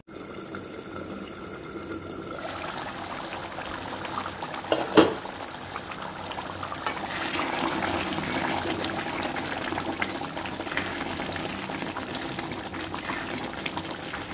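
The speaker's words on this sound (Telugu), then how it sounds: "మూత పెట్టేసి మీడియం ఫ్లేమ్లో ఒక 4 నిమిషాల పాటు ఈ మనం వేసుకున్న స్పైసెస్ అంతా ఆలూకు పట్టే విధంగా" Potato curry in a covered pan on a medium flame gives a steady bubbling simmer, with a brief clatter near the middle and the bubbling growing a little fuller afterward, no talk.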